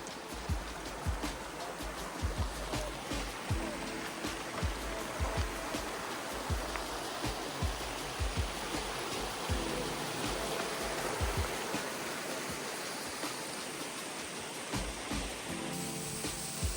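A hidden waterfall at Jemez Hot Springs in New Mexico rushes in a steady broadband roar, with scattered splashes and clicks running through it.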